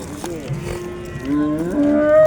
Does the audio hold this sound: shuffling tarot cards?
no